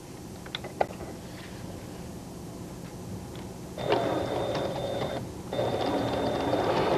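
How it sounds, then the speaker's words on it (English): A 1980s sewing machine sews a hem, starting with a few faint clicks and then running in two steady whirring bursts with a brief pause between them. "a machine sewn hem can be sewn nearly as quickly as a simple seam"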